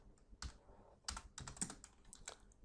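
Keys clack on a computer keyboard as someone types short Python print statements, a handful of close, crisp clicks in an uneven rhythm with brief pauses between them, fairly quiet and with no voices.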